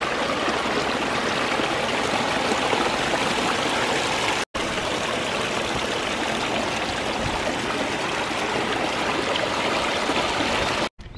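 Water flows steadily beneath stepping stones set across a garden pond, a continuous close, loud stream-like rush with two very brief dropouts.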